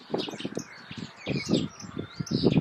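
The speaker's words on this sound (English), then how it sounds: "Listen to the birds, they're really chitty chatty after I said that." Birds chirping and twittering in quick bursts, with low cooing underneath, moderately close and lively.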